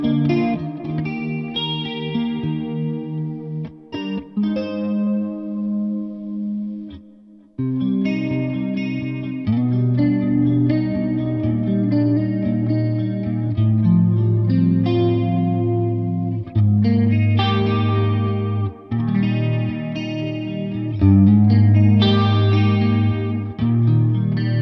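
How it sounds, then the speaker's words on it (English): Clean electric guitar through a V4 amp modelled on a Quad Cortex, drive switched off and chorus on, plays shimmering chords and phrases with short gaps, alone and at a moderate level. "I'm actually gonna disengage the drive, bring in chorus."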